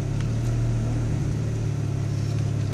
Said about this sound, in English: All right, we're going in reverse now.